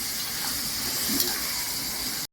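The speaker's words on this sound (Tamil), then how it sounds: "அதை தான் இப்போ எண்ணெயில் போட்டு வதக்கிட்டு இருக்கேன்" Chicken with ginger, garlic and turmeric sautéing in hot oil in a home kitchen gives a steady, even sizzling hiss that runs close and constant, then stops abruptly.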